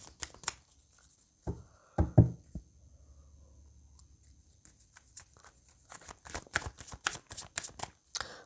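Tarot cards being shuffled by hand, with a few soft riffles and knocks early on, then a quick, dense run of crisp card flicks and taps near the end, close up and fairly quiet, with no talking.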